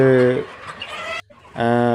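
Hens and roosters on a new poultry farm, Sonali, Kadaknath and black Australorp birds, give two loud, near, harmonic calls, one at the start and one at the end, with quieter farm noise between.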